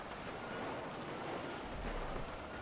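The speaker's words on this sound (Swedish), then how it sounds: "det regnar så himla mycket" Steady, dense hiss of heavy video-game rainfall in FiveM pours down without a break, fairly faint and even throughout, with no voices.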